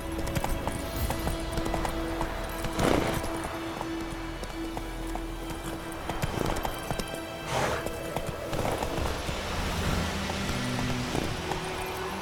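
Roach the horse gallops in The Witcher 3, hooves pounding in a continuous rapid clip-clop beneath game ambience and music, with a few louder thuds along the way.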